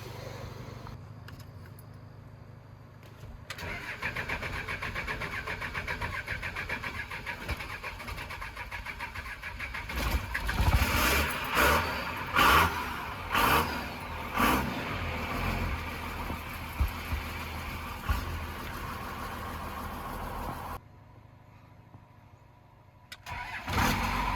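A truck engine with a newly installed Valair twin-disc clutch cranks over repeatedly in a rapid, sputtering churn that nearly catches but never settles into a steady idle, with quiet pauses before and after.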